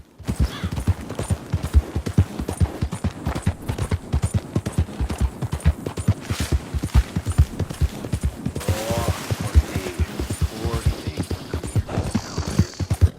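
Horse hooves pound in a fast, steady rhythm while galloping in Red Dead Redemption 2, loud and close throughout, with occasional tack and ambient game noises layered over the beat.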